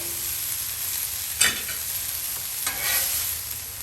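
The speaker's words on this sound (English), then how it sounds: "I'm going to add a little bit of the garlic. This is 2 cloves of fresh garlic." Two cloves of fresh garlic sizzle on a hot Blackstone griddle among fried rice, a steady close hiss with a couple of brief scraping stirs and no one talking.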